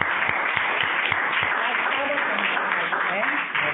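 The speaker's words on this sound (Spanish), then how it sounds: "Es un aplauso para él." Audience at a skin cancer prevention talk applauds steadily for several seconds, a dense crowd clapping at even loudness throughout.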